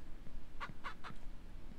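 Chickens on a Ranch Simulator farm give three quick clucks in a short burst, close and fairly clear over a low background hum.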